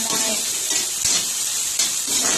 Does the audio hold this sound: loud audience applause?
no